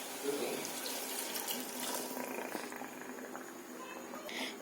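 Water poured into an egg curry masala with fresh coconut, a steady running, splashy pour close by that fills the clip at moderate level, without talking.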